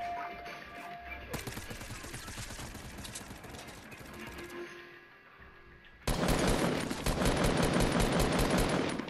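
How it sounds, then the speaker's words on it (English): Rapid video-game gunfire from multiple directions, a dense stream of automatic shots that grows suddenly louder and harsher in the last few seconds. "We're shooting up from all angles"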